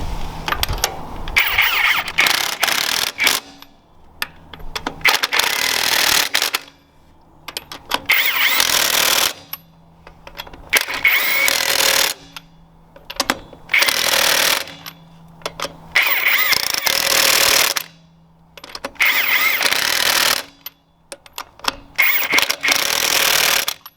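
An impact wrench tightening lug nuts on a RAM Cummins 2500/3500 truck wheel, with repeated loud, buzzing, rattling bursts of a few seconds each, separated by short quiet gaps.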